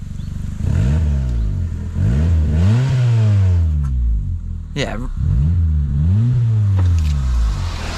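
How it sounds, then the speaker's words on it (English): Fiat Punto Evo with a newly fitted exhaust revved repeatedly while parked, each rev rising and falling in a steady rhythm, a deep, close rumble with a brief word spoken over it. "let's give it a few revs and hear how this puppy sounds"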